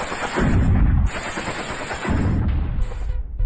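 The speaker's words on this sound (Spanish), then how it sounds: "cuenta con una metralleta Browning calibre 50 instalada en la parte trasera" Rapid automatic fire from a Browning .50 caliber machine gun mounted on the back of a vehicle in Culiacán, Sinaloa, heard as loud, dense bursts of gunfire in two main stretches with a short pause between.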